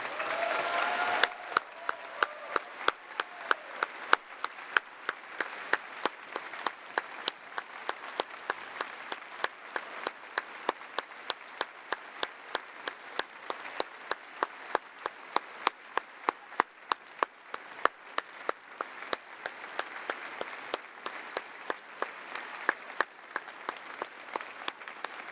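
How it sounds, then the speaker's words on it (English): A large political party conference audience applauds a departing treasurer, steady dense clapping holding for around twenty-five seconds with little variation, filling the hall without speech over it. "conference, please join me in giving a huge round of applause for our departing Treasurer, Diana Holland."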